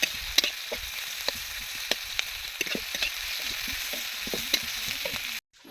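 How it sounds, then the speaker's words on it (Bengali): Onion and green chilli fry in a wok over a stove, giving a continuous close sizzle with scattered light clicks of stirring, then the sound cuts off abruptly at the end. "আর এই পেঁয়াজ আর লঙ্কা ভাজতে দিয়ে দিয়েছে"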